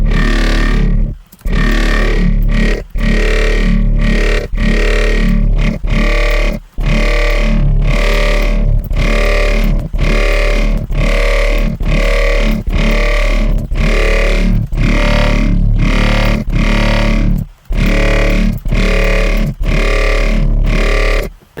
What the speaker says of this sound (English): that's a very basic dubstep growl